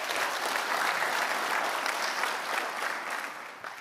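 A round of applause at an annual vitamins and minerals conference for award winners, full and close, holding steady before tapering off at the end.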